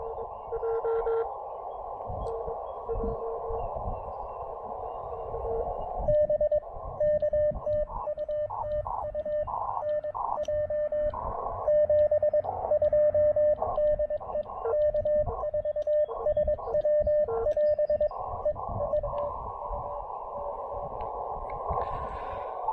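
A ham radio signal on an Elecraft KX2 transceiver, tuned with a wide filter during a low-power portable outdoor activation, carries Morse-like tones that pulse and fade in and out over a constant hissy band of static, with no speech.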